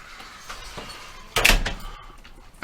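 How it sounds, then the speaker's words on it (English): Heavy old jail door swung shut with a single loud thunk and brief metallic rattle, preceded by quieter handling knocks, close by in an empty room. "I think we lock this door, right?"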